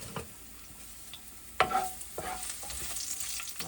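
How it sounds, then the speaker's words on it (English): Garlic cloves fry in a pan under a soft, steady sizzle while a utensil stirs and scrapes them, with one sharper clack partway through and no talk. "So we are doing 1 minute, roughly 1 to 2 minutes for the garlic. Don't let it get brown too much."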